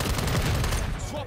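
Dense rapid gunfire from Call of Duty fills the short burst, loud and continuous with rattling machine-gun bursts layered together.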